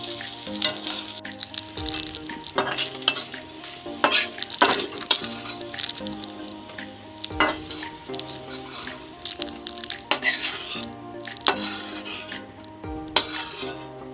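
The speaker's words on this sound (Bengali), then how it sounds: "আদা বাটা দেওয়ার পর আবার ভালোভাবে নেড়ে নেব।" Ginger paste stir-fried in a wok, giving a steady sizzle broken by frequent irregular scrapes and knocks of a spatula, with a sustained tonal drone running underneath.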